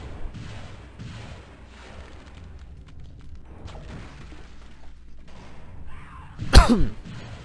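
A sharp, loud explosion bursts late in a Hexen game scene, rising out of a low rumble and scattered clatter.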